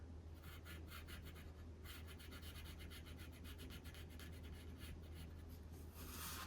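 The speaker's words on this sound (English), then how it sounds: "Listening to the sound your pencil makes." Pencil strokes scratching across a small drawing tile, a steady run of short rhythmic rasps close up, with brief pauses between groups of strokes over a low constant hum.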